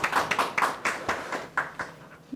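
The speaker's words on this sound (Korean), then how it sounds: "심충진 교수님께 박수 부탁드립니다" Brief scattered handclaps as an audience applauds a professor introduced at a Korean tax forum, a few distinct claps spaced out over a couple of seconds, fairly light and thin rather than a full ovation.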